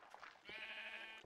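A sheep in the Minecraft video game gives a single short, nasal bleat, faint and heard alone.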